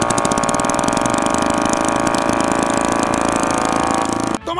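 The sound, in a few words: overloaded motorcycle engine straining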